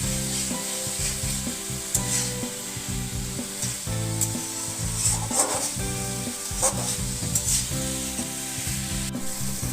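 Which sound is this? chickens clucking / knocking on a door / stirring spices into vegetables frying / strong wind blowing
stirring spices into vegetables frying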